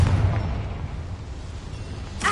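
A game spell called Confringo sets off an explosion in a Harry Potter video game, heard as a loud boom at the start that rumbles and fades over about two seconds, with a sharp burst at the end.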